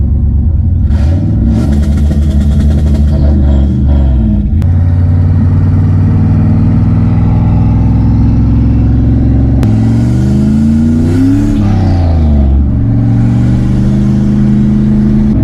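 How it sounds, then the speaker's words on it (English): A Mazda RX-7 with a 5.3 turbo engine is held on two-step launch control, giving loud, sustained, crackling revs near the limiter that rise and drop in pitch across several blips, with no speech. "I hold this button down and floor it, and I go two-step."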